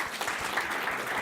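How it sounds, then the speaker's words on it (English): An audience at a real estate investing talk claps in a brief, dense burst of applause. "So one last time for Geneva, a round of applause."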